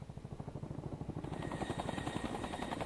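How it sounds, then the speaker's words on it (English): A helicopter in the video game XIII thumps with fast, steady rotor beats that grow louder and fuller as a high engine whine joins in, with no talking. "The helicopter."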